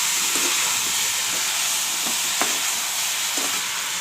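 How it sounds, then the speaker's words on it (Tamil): Sliced vegetables for a karamani and potato poriyal sauté in a pan with a continuous close sizzle, punctuated by several light scraping strokes of a spatula. "காய் ஒரு நிமிஷம் வதங்கிடுச்சு."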